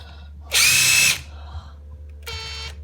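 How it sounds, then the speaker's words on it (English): A screw gun whirs in one loud half-second burst at close range, followed later by a shorter, fainter spin, with quiet room hum in between. "and my screw gun from work"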